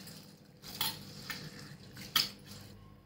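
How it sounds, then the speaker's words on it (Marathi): Jowar (sorghum) grains being rinsed in water, giving soft sloshing and splashing with a few brief louder swishes and clinks of a vessel, close and quiet, with no voices. "धुवून घेते असे स्वच्छ"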